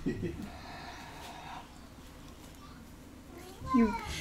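A cat lets out a brief, close meow near the end, with voices talking earlier and quieter background sound between.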